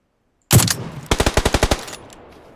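Automatic gunfire in PUBG (PlayerUnknown's Battlegrounds): one heavy shot, then a quick even burst of about eight loud close rounds, trailing off into a short reverb tail.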